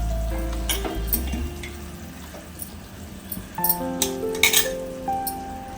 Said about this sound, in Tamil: இப்போ மீன் போடுறோம்